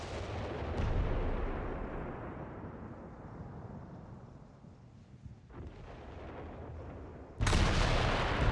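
Artillery rumbles and booms in Company of Heroes 3, a deep and sustained roar of gunfire. A fresh heavy blast hits near the end.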